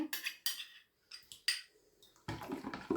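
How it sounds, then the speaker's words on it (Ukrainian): A spoon stirs room-temperature water with ketchup or tomato paste in a bowl: several separate clinks and swishes close by, then a louder, steadier scraping swirl at the end. "Добре перемішуємо."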